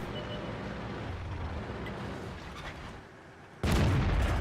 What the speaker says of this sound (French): les obus ils veulent pas toucher aujourd'hui